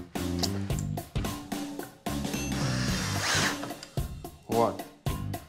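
A power drill drives screws into a wooden sawhorse in a series of short whirring bursts with brief gaps between them, heard close, while a voice speaks intermittently.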